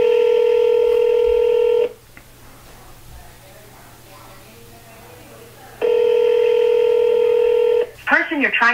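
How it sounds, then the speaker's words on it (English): A phone line plays outgoing call tones during a real estate cold call, with two loud, steady multi-tone ringback bursts separated by a quiet gap, followed by a short recorded voice at the end. "Let's see if we can get this person on the phone here."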